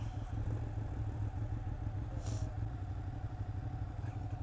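A Ducati 959 Panigale motorcycle idling nearby, a steady loud low engine rumble with a constant throbbing pulse throughout.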